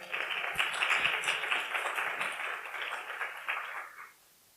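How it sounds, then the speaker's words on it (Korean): An audience applauds at a Korean-language speech contest, a dense burst of many hands clapping for about four seconds before cutting off abruptly into quiet. "뜨거운 박수 부탁드립니다."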